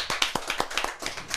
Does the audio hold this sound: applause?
yes